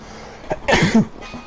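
A single sharp, explosive burst from a person, a sneeze or cough, close and loud, following a brief intake of breath, with quiet room tone around it.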